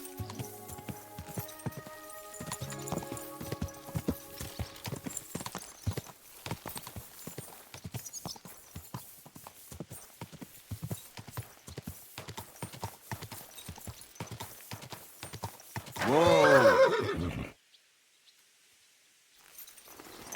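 A horse in the medieval game Kingdom Come: Deliverance gallops in a long run of steady hoofbeats, then lets out a loud, close whinny before the sound drops away to near silence.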